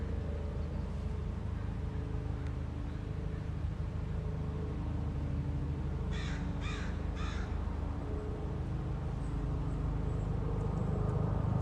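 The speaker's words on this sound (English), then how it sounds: "There's a crow up in the distance that has a bunch of moss in his mouth." A crow caws three times in quick succession, distant and fairly faint, over a steady low rumble of background noise in a forest.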